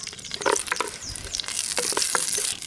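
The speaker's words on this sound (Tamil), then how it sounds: "மண் சட்டி நல்லா சூடாயிடுச்சு. எண்ணெய் ஊற்றிக்கலாம். எண்ணெய் நல்லா சூடாயிடுச்சு. வரமிளகாய் சேர்த்துக்கலாம்." Dried red chilies fry in hot oil in a heated clay pot, crackling and spitting in bright bursts over a continuous sizzle, with a few louder pops close by.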